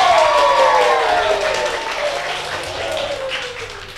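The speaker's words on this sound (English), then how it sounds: "Give them a round of applause." Audience applause for contestants at a macaroni and cheese cooking contest, a burst of steady clapping that gradually fades, with a high whistling tone sliding downward near the start.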